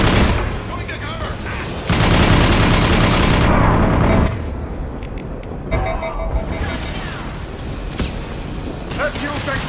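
Dense, loud bursts of automatic gunfire and explosive booms in a Mass Effect 2 combat sequence, with a sustained heavy barrage that thins into scattered shots under shouted voices.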